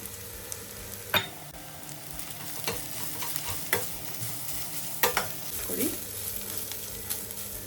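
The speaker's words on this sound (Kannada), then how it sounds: "ಈಗ ಈರುಳ್ಳಿ ಎಲ್ಲ ಫ್ರೈ ಆಗಿದೆ ಈ ಟೈಮಲ್ಲಿ ನಾನು ಇದಕ್ಕೆ ಒಂದು ಸ್ವಲ್ಪ ತೆಂಗಿನಕಾಯಿ ತುರಿನ ಹಾಕೋತಾ ಇದ್ದೀನಿ" Sliced onions frying with grated coconut in a pan while a spoon stirs, a soft steady sizzle broken by several scraping, clinking stirs at irregular intervals, close and fairly quiet.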